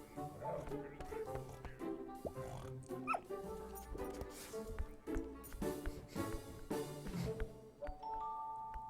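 Puppy barks and yips from an animated short in which a puppy licks a pig and chases it, mixed with music, chimes and oinks throughout; steady and fairly busy over nine seconds.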